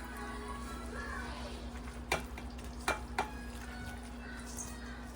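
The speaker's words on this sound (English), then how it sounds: "now we're gonna mix this all up" Garden vegetables and fresh dill mixed together in a bowl, with a soft continuous rustle and a few sharp utensil knocks against the bowl, close and moderately quiet, with a low steady hum beneath.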